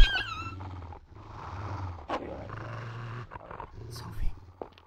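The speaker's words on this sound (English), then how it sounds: "The dogs are still there" Dogs growling in The Boogie Man video game, low rumbling snarls in bursts, mixed with voices talking and a few sharp louder hits.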